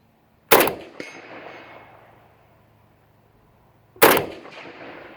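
Two loud, sharp AK-47 rifle shots about three and a half seconds apart, each followed shortly by a faint metallic clang of the round striking a target downrange, with a ringing decay after the first.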